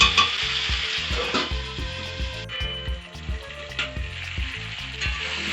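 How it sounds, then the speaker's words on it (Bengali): Paste of coriander, chili and ginger frying in a pan for a fish and taro curry, hissing loudly and steadily up close with stirring scrapes and occasional spattering bursts. "ধনে, মরিচ, আদা, পাকা লঙ্কার পেস্টটা দিয়ে দেব। দিয়ে ভালো করে নাড়াচাড়া করে এটাকে কষে নেব।"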